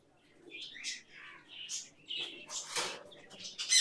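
Budgerigars and Java sparrows chirp and twitter in quick, overlapping bursts, fairly close, with a busy aviary-like chatter throughout.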